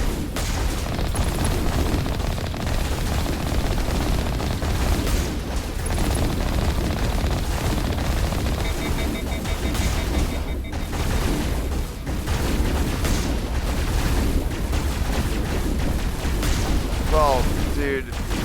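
Gunfire and explosions in the video game Mass Effect, a continuous rumbling battle backdrop with scattered booms and shots at moderate loudness, with talk over it.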